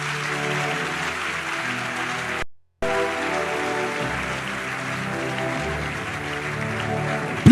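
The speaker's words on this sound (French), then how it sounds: "Acclame très fort si tu crois que ça va se passer." A church congregation applauds loudly and continuously, a thick wash of clapping over faint sustained music, broken by a brief silent gap.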